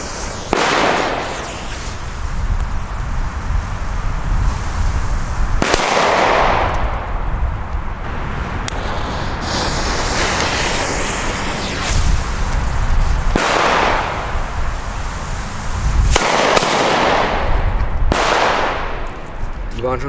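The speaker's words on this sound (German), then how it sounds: "Wir fangen an mit Schwarzpulverböller, und zwar Funke A-Böller." Funke A-Böller black powder firecrackers set off outdoors, a series of loud sharp bangs spaced several seconds apart with echoing tails, while someone talks between the blasts.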